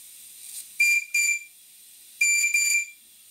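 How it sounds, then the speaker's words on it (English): A steady, faint hiss from the blowing safety valve of a Stuart model steam boiler at about 60 psi, interrupted by four short, shrill whistle blasts in two pairs. "The safety valve is obviously blowing off at this pressure."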